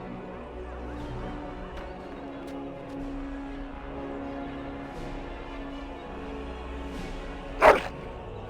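A dog barks once in Dragon Age: Origins, a short loud yelp near the end over a steady bed of ambient game music and rumble.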